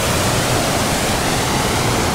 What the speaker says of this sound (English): We've got a bit of a river crossing now.